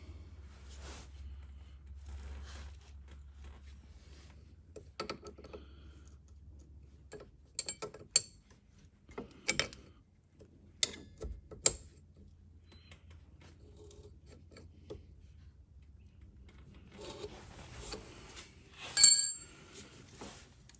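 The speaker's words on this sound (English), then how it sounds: "And now we can tighten the brake hose." A rear brake hose being tightened on the caliper of a Volvo P2 V70, S60 or S80 gives faint, sparse metallic clicks and ticks from a spanner, scattered over a quiet background with a low hum.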